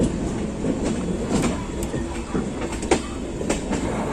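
Ajmer Janshatabdi Express rolling through the Rewari junction yard, switching tracks in daylight; a steady rumble of rail noise with a few sharp clacks and knocks as the wheels cross points.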